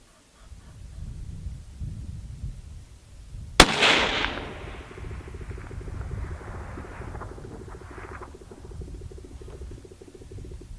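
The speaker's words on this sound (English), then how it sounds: "I love shooting this rifle." A .308 rifle fires a single sharp shot at a long-range target, loud and abrupt, followed by a fading echo rolling across open ground over steady background noise.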